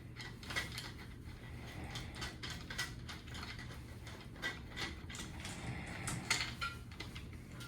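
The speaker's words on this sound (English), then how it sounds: "go ahead and disconnect your bottle from the pack using the threads or the high pressure air line" A self-contained breathing apparatus air cylinder being unscrewed from its pack threads: steady close mechanical ratcheting and scraping clicks with small metallic knocks, fairly quiet, no voices.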